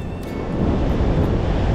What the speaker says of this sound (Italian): il mare è grosso, ragazzi